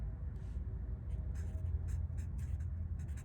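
A name is written with a Sharpie marker, short squeaky felt-tip strokes in quick bursts over a low steady room hum, close and faint.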